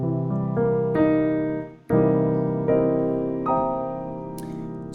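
A sharp nine chord sounds on piano in a jazz and neo soul context, several struck voicings building and sustaining over a few seconds, clear and close with no speech.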